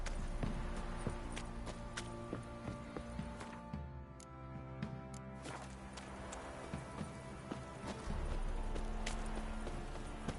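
Horse hooves clip-clop steadily in the Witcher 3 video game, a dense, even rhythm under a continuous musical and ambient game soundscape, with a brief quieter dip midway.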